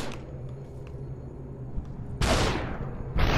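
Gunfire in the video game Superhot: a sudden loud broadband blast that tails off, followed by a second sharp shot near the end, over a steady low game hum.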